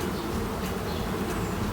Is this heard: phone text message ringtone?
no